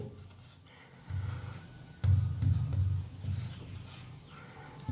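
Pen scratching on paper while a maths solution is written out, with short strokes and pauses, close and fairly loud, and no talking.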